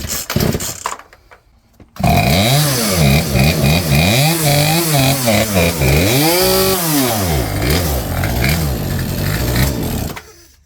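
A chainsaw with a new carburetor runs after adjustment, loud and close, revving up and down in repeated swells after a short spluttering start, then cutting off near the end.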